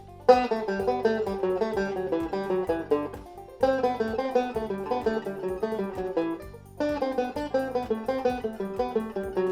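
Plucked guitar plays a steady single-string pattern in reverse, notes moving in repeating groups of four, clear and close, with brief pauses between phrases.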